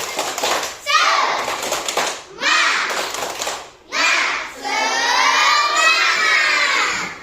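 A classroom of third-grade children repeats the tepuk semangat chant, loud group shouting in rhythmic bursts with quick hand claps and thumps woven in, finishing with an extended excited cheer from the whole class.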